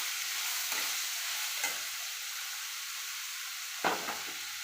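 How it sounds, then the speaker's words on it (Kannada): Chopped raw mango fries in a pan, a steady soft sizzle broken by a few brief stirring scrapes. "ಸ್ವಲ್ಪ ಫ್ರೈ ಮಾಡ್ಕೊತೀನಿ."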